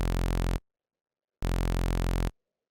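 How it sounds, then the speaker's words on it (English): A raw saw wave synthesizer in Ableton Operator plays two sustained MIDI notes, each a buzzy, harmonically rich tone with abrupt starts and cutoffs separated by silence, clean and unfiltered. "So just a saw wave with the MIDI notes we have will sound like this."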